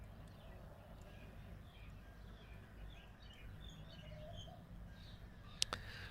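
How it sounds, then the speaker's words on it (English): Birds that sound like cuckoos or doves call faintly in the background in Jerusalem, soft scattered calls over a low steady hum, with a brief sharp click near the end. "All I hear is cuckoo birds in the background."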